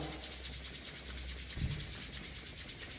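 Quick back-and-forth friction of palms rubbed together, a soft continuous pulsing swish close to the ear with no talking.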